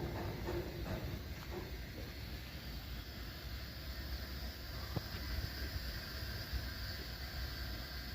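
Air hisses from the brake lines of a stopped freight train whose locomotives have just shut down, a steady, fairly faint broadband hiss with a few soft knocks from the rail cars.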